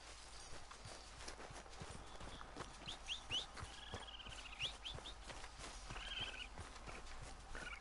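Horse hooves clip-clop at a steady walking rhythm in Red Dead Redemption 2, soft and close, with faint birdsong chirps in the background.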